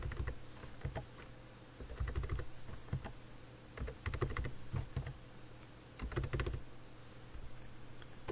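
Typing on a computer keyboard while entering an amount in an Excel spreadsheet: bursts of rapid, close key clicks separated by brief pauses over a low steady hum, no speech.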